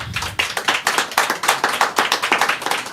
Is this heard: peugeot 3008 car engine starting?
no